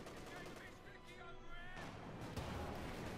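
A 6-pounder anti-tank gun fires in the video game Company of Heroes 2, dense booming battle noise with sharp blasts layered over constant rumbling combat, loud and continuous throughout.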